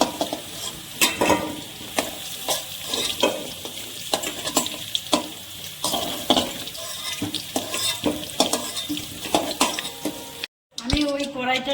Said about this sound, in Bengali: তেলটা গরম হয়ে গেছে, এবার আলুগুলো আলুটাকে আমি লাল করে ভেজে নিয়েছি